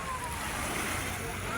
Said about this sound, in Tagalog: Gumagalaw siya, no? Pero hindi naman masyadong malakas yung alon, ano?